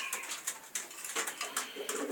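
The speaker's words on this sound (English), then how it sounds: "If I can break them pigeons, I'll be happy." Racing pigeons coo in a breeding loft, with soft repeated calls and bursts of rustling and fluttering close by, no talk over them.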